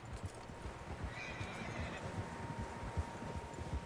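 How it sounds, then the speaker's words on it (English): Steady clip-clop of several horses' hooves at a trot, a continuous muffled rhythm with a high whinny briefly rising in the background, in Red Dead Redemption 2. "Tracks. Horses, quite a few of them."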